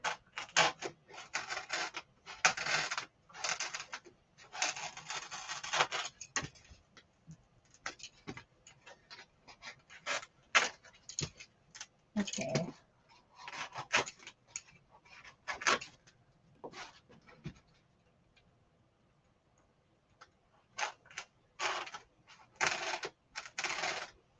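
A blade cutting material into two-inch segments on a cutting mat, heard as irregular bursts of crisp slicing and scraping strokes with short pauses between, close and alone.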